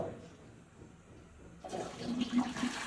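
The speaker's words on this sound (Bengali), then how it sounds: "তো এটা হচ্ছে আপনার জেট ফ্লাশ।" Jet flush of a toilet, a quiet lead-in followed by a sudden rushing surge of water that swells and churns close by, with no voices.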